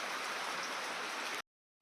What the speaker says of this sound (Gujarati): હજુ પણ વરસાદ ચાલુ છે, જોઈ લો.